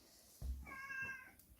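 A cat lets out a single short, clear meow close by, in a quiet indoor room.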